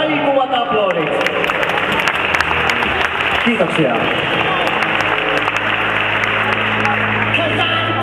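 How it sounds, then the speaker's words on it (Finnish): Sustained audience applause at a fitness model competition fills the hall, loud and steady throughout with crowd noise, while an announcer speaks over it at the start. "Annetaan heille oikein raikuvat aplodit."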